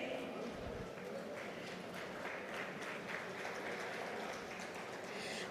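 An audience claps at a textile-industry event in Bhilwara, producing a quiet, continuous rattle of many hands, somewhat distant and muffled, with a soft thump near the start.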